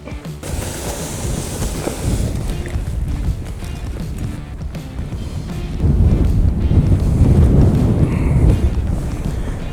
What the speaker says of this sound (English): this wind is zero fun